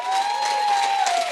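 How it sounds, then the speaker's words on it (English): A live show audience at DragonCon applauds in a dense, even burst of clapping with light cheering, steady and close throughout. "One more big round of applause for Brian Brushwood."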